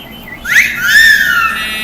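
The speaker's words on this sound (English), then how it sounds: "this is the way you whistle a song" A person whistling a short tune, rising and gliding notes that grow louder, then hold in a sustained sliding tone, alone and close.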